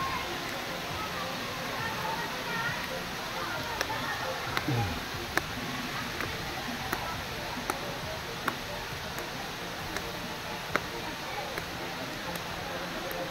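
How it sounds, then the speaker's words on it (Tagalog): Water overflows near a hillside cottage, making a steady rushing wash that continues throughout, with faint ticks and a voice speaking over it. "Umapaw ang tubig."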